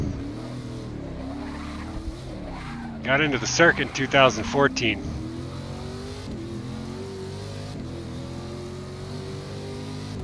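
Corvette C7R race car in Forza Motorsport 6, built in 2013 and based on the Corvette Stingray: a steady engine drone runs beneath continuous narration, with a brief loud revving burst partway through.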